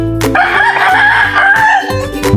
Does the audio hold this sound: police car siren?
no